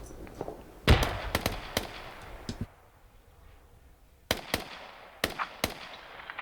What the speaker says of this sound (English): there's a big old grenade exploding right there